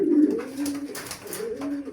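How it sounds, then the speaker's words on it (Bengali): A racing pigeon chick held in the hand gives a soft, low coo lasting a couple of seconds, close and clear with a quiet background. "আমার হাতে একটি কবুতার বাচ্চা দেখতে পাচ্ছেন"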